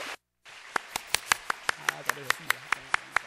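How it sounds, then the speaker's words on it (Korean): A church congregation claps to welcome a newly registered member: steady, evenly spaced claps, about a dozen in quick rhythm, with voices murmuring underneath. "뜨겁게 환영 박수합니다."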